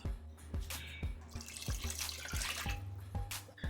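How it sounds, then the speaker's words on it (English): A cup of vegetable broth is poured into a pot for a cream of mushroom and green bean casserole, giving a close, steady liquid splash while soft rhythmic music plays beneath. "we're gonna add another cup of vegetable broth"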